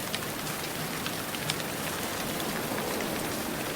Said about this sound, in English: Actually, I'm just here because it's raining outside.